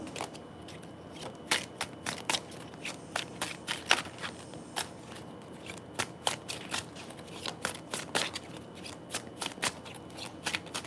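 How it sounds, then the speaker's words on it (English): Tarot cards are shuffled repeatedly, crisp riffling snaps and soft slides coming in irregular bursts, close and fairly quiet with no talking. "I'm going to shuffle 3 more times."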